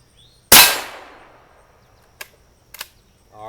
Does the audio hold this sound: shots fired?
yes